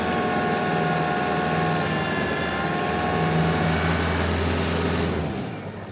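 A small garden tractor drones steadily while pulling a power harrow through dry soil, a loud continuous engine hum with a steady pitch that fades slightly at the very end.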